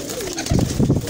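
Old double-breed pigeons coo in a close, soft, throaty run of low rolling calls that starts about halfway through and carries on to the end.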